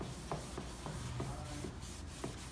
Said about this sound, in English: I have a cloth full of wax. Turn over to a clean spot, and I'm just going to start sliding.